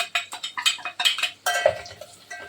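A spoon clinks and scrapes rhythmically against a metal pot while a turmeric, masala and coriander powder mixture is stirred for a Konkani crab rassa, close and fairly loud with no talk.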